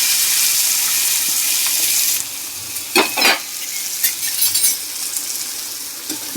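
Spices such as cumin and mustard seeds with curry leaves tempering in hot oil for a cashew bitter gourd curry, a bright hissing sizzle that drops after a couple of seconds, followed by stirring clatters and quieter frying, close with no talk.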